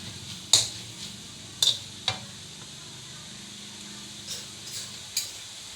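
Minced pork being stir-fried in a pan for a Thai basil stir-fry with squid and mushrooms, with a steady soft sizzle and several sharp spatula scrapes and clacks against the pan, close by and with no talking.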